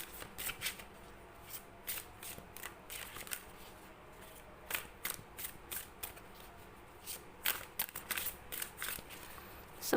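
Tarot cards being shuffled, handled and laid out on a surface, a quiet run of crisp snapping riffles and soft slaps coming in irregular bursts, close by, with no voice over them.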